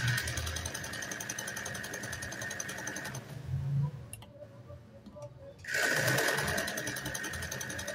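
A vintage Elgin sewing machine runs a straight stitch with a fast, steady mechanical whir and ticking. The machine stops for about two seconds and then starts again, close and clear.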